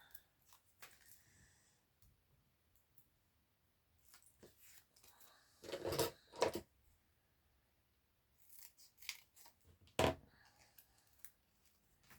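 Scissors snipping through foam pads, a few crisp cuts clustered together with quiet handling noise between them, close and fairly faint.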